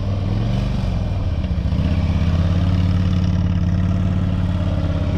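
A heavyweight motorcycle engine runs close by during low-speed gate exercises, revving up slightly and holding a throbbing, mid-pitched drone throughout.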